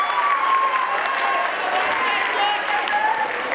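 Steady, dense applause from a crowd at a school's annual gathering program, loud and continuous throughout with no breaks.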